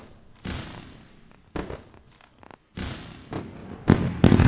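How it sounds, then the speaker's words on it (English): Fireworks sound effect playing during a live day-trading stream: several loud bursts of booming, crackling explosions, one after another and growing heavier toward the end, with no talking. "Let's go for a round of fireworks and applause."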